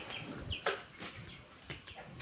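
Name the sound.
chicken clucking while being caught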